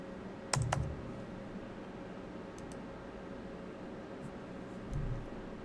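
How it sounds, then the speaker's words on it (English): A few quick keystrokes on a computer keyboard, entering a MySQL error query, clatter near the start, followed by sparse single clicks over a steady fan-like hum in a quiet room. "So we type in here MySQL"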